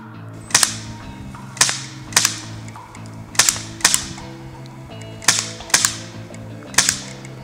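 Specna Arms HPA airsoft replica, running a Valken V12 engine, fires sharp mechanical cracks, mostly single shots with a couple of quick pairs, spaced irregularly over a low steady hum.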